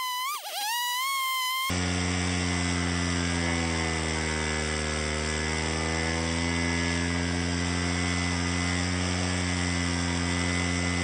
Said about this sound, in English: Now the saw is all gassed up and I'm cutting through